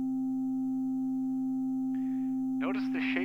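A synthesizer imitates a whistle with a smooth, pure sine tone, held steady and unbroken at moderate volume, before a voice starts talking near the end.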